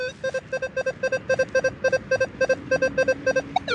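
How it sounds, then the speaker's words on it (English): Rapid pulsing electronic beeps from a metal detector, a steady warbling tone chopped into quick repeating bursts over a low background hum. "so here's my metal detector."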